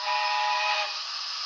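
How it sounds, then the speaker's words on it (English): A steam chime whistle from the DCC sound decoder of a Hornby A4 Sparrowhawk model locomotive sounds as one steady, loud, multi-tone blast that holds, then softens slightly toward the end, heard alone. "is another steam chime."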